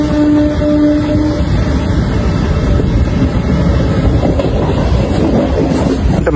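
A MEMU passenger train runs on the line between Visakhapatnam and Palasa, filling the carriage with a loud, continuous rumble of wheels on rails and a faint tone near the start.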